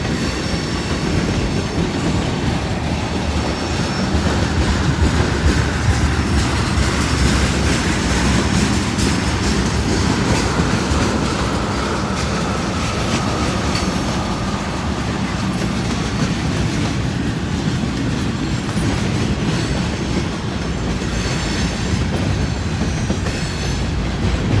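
A long freight train rolls past on Norfolk Southern tracks, a loud continuous rumble with clattering wheels and faint squeals, close and unbroken for the whole stretch with no talking.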